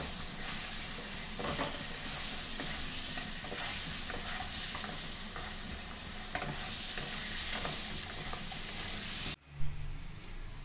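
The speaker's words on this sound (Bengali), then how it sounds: "লাল লাল করে ভেজে নেব।" Potatoes seasoned with turmeric and salt fry in a pan for chicken biryani, giving a steady, close sizzle with the scrape of stirring, until the sound cuts off abruptly near the end.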